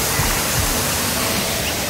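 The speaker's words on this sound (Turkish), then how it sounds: "Dediğimiz gibi dere bu şekilde devam ediyor." A creek flowing through a forest near a village gives a loud, continuous rushing wash of water close by, steady and unbroken with no talk over it.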